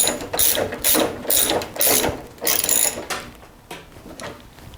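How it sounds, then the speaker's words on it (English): Ratchet wrench tightening a 9/16 nut on a snowblower chute, a series of close, crisp clicking bursts in an uneven back-and-forth rhythm, getting fainter toward the end. "And now install the washer and the 9/16 nut. And now tighten it up."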